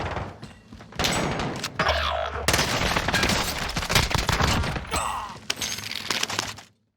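Rapid hip-fire bursts from an Oden rifle in Call of Duty: Warzone, loud and close, with sustained volleys, brief pauses and sharp impacts, no voices heard.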